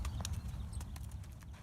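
A young horse's hooves clip-clopping as she is led: a quick series of light, irregular hoof strikes at moderate distance, over a low steady background hum.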